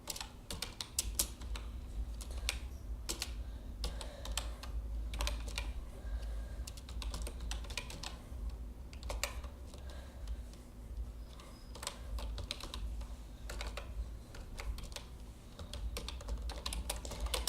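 Code being typed on a computer keyboard: a steady, continuous run of quick key clicks, close but soft, over a low background hum with no talking.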